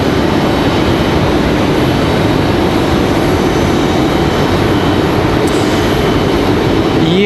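A United Airbus A319 jet departing Raleigh Durham International for Denver, a loud, steady broadband engine roar that fills the air without letup, heard alone with no voices.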